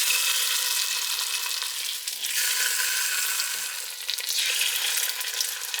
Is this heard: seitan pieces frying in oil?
yes